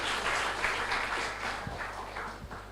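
A conference audience applauds the introduction of a speaker, with steady distant clapping from a modest crowd that carries on evenly throughout.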